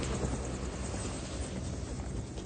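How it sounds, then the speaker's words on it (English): Helicopter rotor and engine running close by in County Kerry, Ireland, a dense, steady broadband roar with rhythmic chopping that holds loud and unbroken throughout. "Just get away from the chopper."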